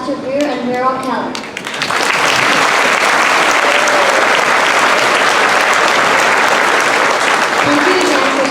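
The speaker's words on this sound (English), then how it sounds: "Let's give one more round of applause to Greer and Merrill Keller" A voice speaks briefly, then a school Veterans Day assembly crowd bursts into loud, sustained applause for its guest speakers, the dense clapping holding steady to the end.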